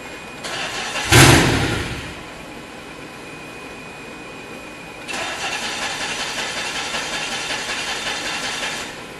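A DeLorean with a throttle body fault cranks and fires up in one loud burst, then settles into a steady, fairly close idle that rises slightly and holds to the end.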